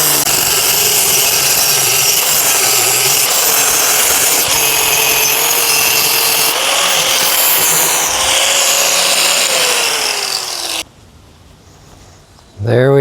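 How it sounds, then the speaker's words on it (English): Loud, continuous grinder work on metal for a Sky Hook ninja obstacle, a harsh broadband screech with a rising tone that runs for about ten seconds before cutting off abruptly, then a brief burst as it restarts. "Okay, let's grind it."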